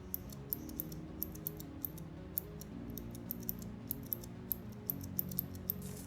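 Rapid, crisp keystrokes from a budget hot-swappable Bluetooth mechanical keyboard with brown switches rattle along in an irregular typing rhythm, fairly quiet over a low background hum.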